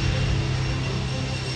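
An Airbus A400M military transport aircraft, the MSN 001 prototype, on its first flight near Toulouse, gives a loud, steady engine drone with a low tonal hum that holds evenly throughout.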